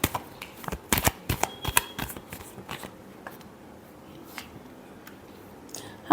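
Tarot cards are shuffled in quick riffling bursts near the start, then fade into faint scattered taps and quiet handling, close and soft.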